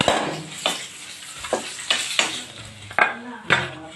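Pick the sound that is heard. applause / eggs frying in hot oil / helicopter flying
eggs frying in hot oil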